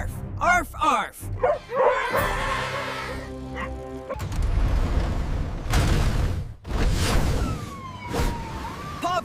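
Cartoon puppy barking in a rescue adventure, a voice performing a rapid run of yappy arfs over background music and effects, loud and close, sirens sounding briefly.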